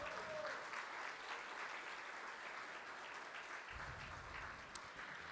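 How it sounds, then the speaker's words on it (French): Audience applause at a traditional patriots' dinner, a sustained dense wash of clapping filling the room for several seconds at steady loudness. "Oui, on s'applaudit."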